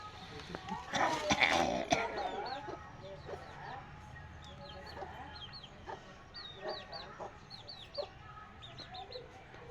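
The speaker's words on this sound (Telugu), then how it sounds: "2 బెంగళూరు కోళ్ళు నుంచి 14 పిల్లలు చేయించినాడు." Bangalore chickens clucking and chattering near and far in a farmyard, with a loud burst of overlapping squawks early on and then steady scattered clucks, while a person talks briefly at the start.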